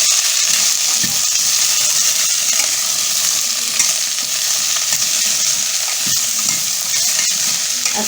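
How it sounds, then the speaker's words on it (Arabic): Vegetables for a vegetable soup are stir-fried in a pot, producing a loud, steady sizzle with scraping stir strokes throughout. "نشوح كويس."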